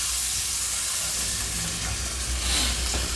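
A can of diced tomato stirred into a simmering beef stew, a short spell of dense steamy sizzle and hiss, close and steady with faint stirring underneath.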